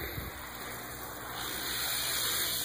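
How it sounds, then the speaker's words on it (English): Aquarium air bubblers aerating a bucket of organic compost tea give a steady hiss and gurgle of bubbling water, close and continuous, swelling slightly louder toward the end with no talk. "They really pump out a lot of bubbles in there"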